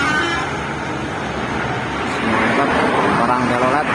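Tour bus on an Indonesian highway with traffic roar; a musical telolet horn faintly sounds through the road noise while someone talks over it.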